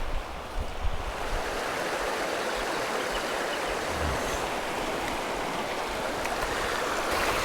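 A clear river in the Victorian High Country flows steadily, with a constant broadband rushing of water, fairly close and even in level, and no voices.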